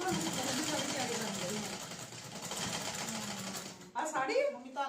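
A sewing machine runs in a steady, rapid mechanical whir for about four seconds, then stops abruptly as a voice begins speaking close by.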